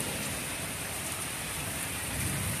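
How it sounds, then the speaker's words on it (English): Heavy rain pours steadily in a garden in the evening, a dense, even hiss of drops on surfaces that stays constant and close throughout. "It is really raining, and it's let up a little bit, but it's still raining pretty hard."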